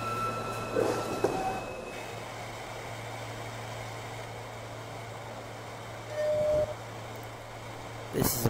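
An R160A subway train on the NYC A Express line in Trainz Simulator 2012 runs with a steady low rumble and hum, a faint tone rising briefly near the end and a short clatter at the close, under an automated announcement voice.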